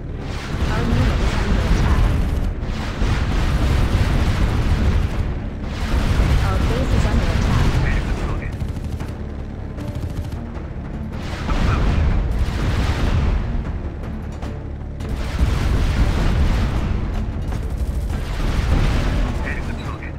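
Repeated heavy explosions and booming gunfire as a target is destroyed in the strategy game Art of War 3, loud rolling blasts in several waves one after another.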